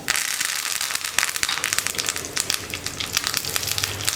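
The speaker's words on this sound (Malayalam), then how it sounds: "കടുക് പൊട്ടി കഴിഞ്ഞുകൊണ്ടിരിക്കുമ്പോൾ നമുക്കിതിലേക്ക് നമ്മൾ മുറിച്ച് വെച്ചിരിക്കുന്ന വറ്റൽമുളക്, അതുപോലെ തന്നെ കറിവേപ്പില," Mustard seeds crackle and pop in hot oil with dried red chilies and curry leaves added, giving a dense, loud, continuous sizzle with rapid sharp pops close by and no voices.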